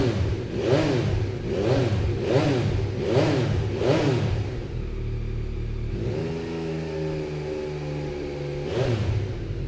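A Yamaha MT-09 SP three-cylinder motorcycle engine is revved repeatedly up close in rhythmic rising and falling bursts, then settles into a steady idle before one more blip of the throttle.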